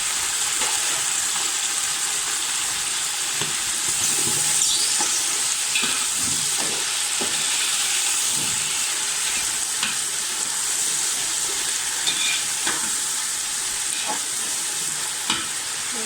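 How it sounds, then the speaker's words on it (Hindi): Onions, peas and potatoes fry in a pan for vegetable rice, giving a steady loud sizzle throughout, with scattered clinks and scrapes of stirring and no talk. "जब प्याज ब्राउन हो जाएंगे तो इसमें हम मटर साथ में ऐड कर देंगे और इसके अलावा आलू ऐड कर देंगे।"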